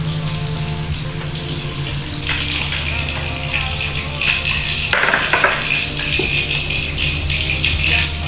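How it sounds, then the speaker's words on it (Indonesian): Tofu sizzling in hot oil in a pan, a steady bright hiss with crackling bursts that rises and falls throughout, no talking. "Ini masih saya goreng tahu."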